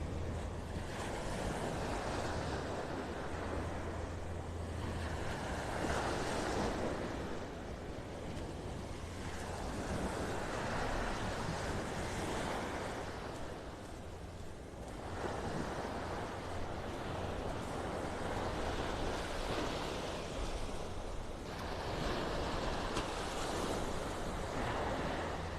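Ocean waves break on a beach in North Naples, Florida, in slow repeating swells of rushing surf roughly every five to eight seconds, steady and moderately distant with light wind, no voices.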